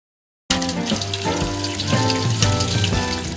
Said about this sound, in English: I use a garden hose to flush out the downspout